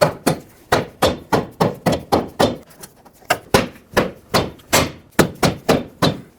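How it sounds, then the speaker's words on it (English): A rubber mallet taps a lower control arm into place on a 2003-2008 Toyota Corolla: about twenty dull, close thuds in quick uneven bursts, with short pauses between groups and no talking. "take a rubber mallet and just tap it through the rest of the way"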